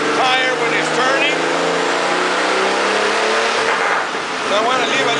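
A car engine revs hard on a Superflow chassis dynamometer, a loud continuous roar with rising pitch sweeps as it climbs through the gears, heard up close and filling the whole stretch.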